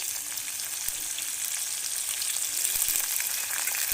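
Garlic sautéing in a pan for vatha kuzhambu gives a continuous bright sizzle with a few faint utensil taps, steady and close, with no speech over it.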